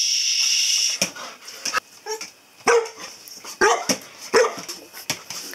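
Several dogs bark in short sharp bursts, some close and loud, with yips in between after a steady high whine at the start.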